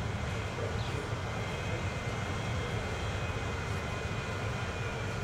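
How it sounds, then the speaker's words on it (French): An airplane taking off in Transport Fever 2 at an airport, a steady, even engine roar with a broad noisy rush and a faint high whine throughout. "Alors on a un avion qui vient de décoller."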